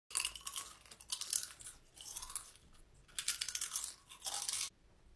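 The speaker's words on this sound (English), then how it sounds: "Can you stop chewing so goddamn loud?" Loud, close crunching and chewing of chips in repeated bursts of bites and mastication, with short pauses between, heard alone with no talking.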